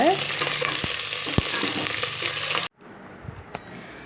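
Bitter gourd sizzles steadily in hot oil with curry leaves in a pan, a dense frying hiss with a few stirring clanks, then the sizzle drops suddenly to a much quieter crackle.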